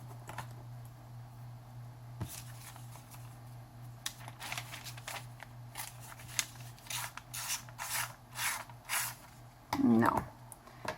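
Scissors snip and rasp through paper in a crafting test with a Tim Holtz paper distressing tool, a run of short scraping cuts close up over a low steady hum, with brief talk near the end.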